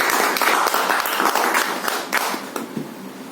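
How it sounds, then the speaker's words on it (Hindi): Audience at a talk gives a loud burst of hearty applause, dense clapping throughout that eases slightly toward the end. "एक बार दोबारा जोरदार तालियां हो जाए।"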